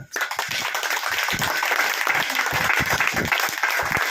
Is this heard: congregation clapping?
yes